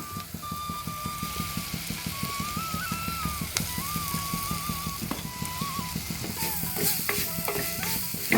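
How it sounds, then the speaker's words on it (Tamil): Shredded chicken and masala sauté in a pan with a steady sizzle, punctuated by repeated scraping stirs of a spoon at a regular rhythm, close and moderately quiet with no talking. "சிக்கனையும் சேர்த்து நல்லா வதக்கிக்குவோம்"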